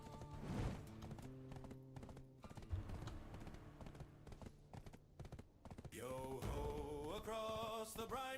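Horse hooves clip-clop in Black Desert Online, a brisk rhythmic patter of hoofbeats under game music and tonal effects, with a brief shift into brighter melodic sound near the end.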